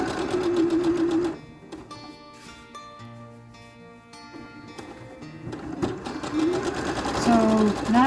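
A sewing machine stitches a seam on a double-sided two-panel quilt, running in steady motor bursts that pause briefly in the middle before resuming loud and close, with a voice talking over parts of it.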